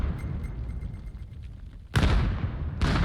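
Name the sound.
grenade explosion in a VR shooter game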